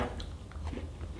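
A quiet bite into a Pepperidge Farm jam cookie, a single soft crunch followed by faint chewing, close up and alone.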